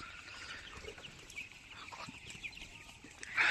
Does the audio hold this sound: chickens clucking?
yes